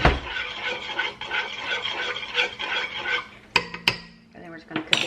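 Apples being stirred with maple syrup in a pan, a continuous scraping rattle of utensil against metal followed by a few sharp clinks and taps near the end, close and fairly loud.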